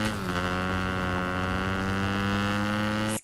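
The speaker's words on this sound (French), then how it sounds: "Malheureusement, les motos font beaucoup de bruit" Motorcycles in the Fortnite video game give off a steady, loud engine drone with a constant low harmonic hum that holds unchanged for about three seconds before cutting off abruptly.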